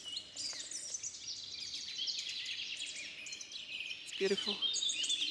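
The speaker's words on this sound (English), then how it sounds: "A lot of birds chirping." Birds chirping in a flooded willow forest, many quick high tweets and trills overlapping steadily, fairly close, with a brief spoken remark partway through.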